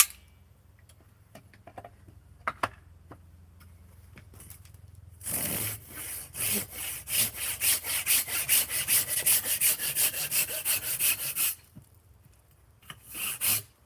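Hand saw cutting wood during carving: after a few quiet knocks, steady back-and-forth sawing strokes start and run for about six seconds in a fast even rhythm, close and fairly loud, then stop.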